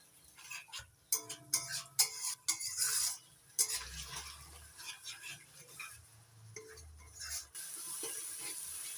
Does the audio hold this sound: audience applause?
no